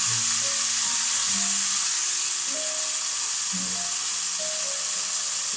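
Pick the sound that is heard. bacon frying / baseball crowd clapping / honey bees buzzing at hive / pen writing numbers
bacon frying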